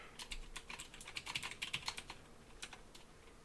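Someone typing a username and password on a computer keyboard, a quick irregular run of light close key clicks that bunches up in the middle and thins out toward the end.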